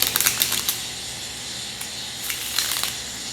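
Quick bursts of crisp card riffling as a tarot deck is shuffled, a cluster at the start and another short flurry later, close up.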